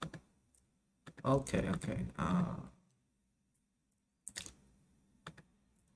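Computer keyboard keys pressed at a desk while coding: a short cluster of close clicking key presses, then a couple of isolated taps, with a person briefly speaking.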